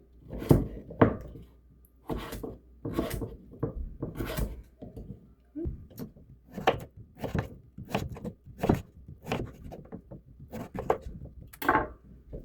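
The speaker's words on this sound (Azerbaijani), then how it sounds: "İndi bunu belə qəşəng kubiklara bölürəm." A knife cuts pumpkin into cubes on a board. The chops come close and distinct in a steady, uneven rhythm of sharp thunks, with faint speech between some strokes.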